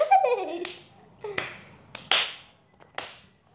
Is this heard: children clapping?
yes